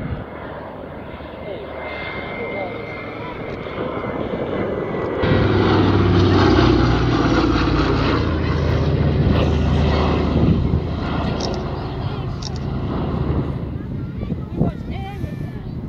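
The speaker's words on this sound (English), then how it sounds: "Andrew Dixon, one of our most experienced C-47 pilots in the United Kingdom, not very many flying these days" A C-47 twin propeller aircraft flying at the Headcorn airshow in Kent, its droning radial engines swelling louder as it passes, with wind buffeting the microphone and a commentator speaking over it.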